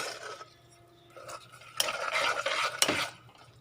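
A spoon stirs powdered palm jaggery into a mixture in a bowl, with close scraping and clinking strokes that grow louder and busier in the second half.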